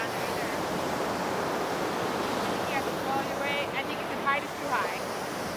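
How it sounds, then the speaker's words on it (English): Storm waves break along the Lake Superior shore in a steady, dense roar that fills the whole stretch, mixed with wind buffeting and a faint voice briefly in the middle. "I think the waves are breaking up too high, so we can't really get over there"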